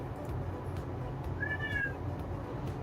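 A single short cat meow rises and falls clearly over a steady hum of background noise, heard alone and at moderate distance.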